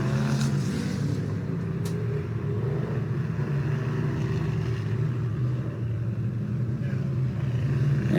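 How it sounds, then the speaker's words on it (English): Historic vintage race cars run on a track during a Midwest Vintage Old Timers session at Circle City, a steady engine drone at moderate distance. "I hope you folks enjoyed watching our historic cars on track for just a few minutes"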